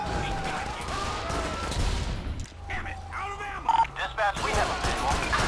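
Video game gunfire on a freeway rattles in dense, loud bursts that give way to a brief quieter stretch, with a person talking over part of it.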